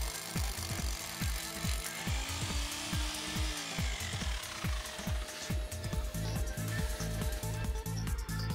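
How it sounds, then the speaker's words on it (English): A hammer drill pounds into concrete steadily in rapid rhythmic bursts, close and loud, grinding continuously without pause. "Drill vertically and take care of the depth."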